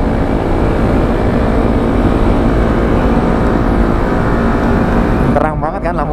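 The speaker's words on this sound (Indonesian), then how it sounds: "Ini berisik banget di belakang kayak ada motor." A steady, loud motorcycle engine drone runs throughout, heard at night, with a voice briefly heard over it near the end.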